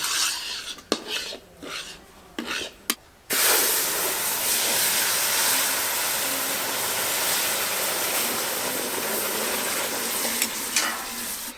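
A loud, steady sizzle and hiss erupts after a few scraping knocks, continuing strongly as sugar syrup is poured little by little into hot semolina halwa in the pan, with occasional stirring scrapes.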